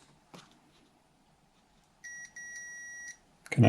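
A multimeter's continuity tester, probes across a glow plug from a Mitsubishi L200 4D56 diesel head, gives a steady electronic beep lasting about a second, briefly broken once, with faint handling clicks before and after.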